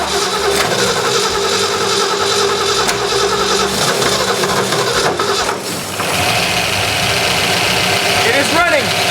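An abandoned 1966 Ford Mustang GT Fastback engine idling after revival, a loud, steady close rumble with a brief dip midway, while people talk over it.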